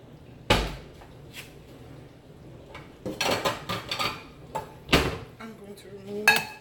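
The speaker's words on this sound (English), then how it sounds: "I'm gonna get meatloaf out the oven." A meatloaf pan is taken out of the oven with a loud metallic clank, then a run of rattling, clattering pan and door sounds and another sharp bang, with faint talk in the background.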